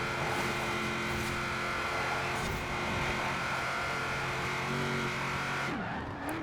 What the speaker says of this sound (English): as I shift up into 6th gear.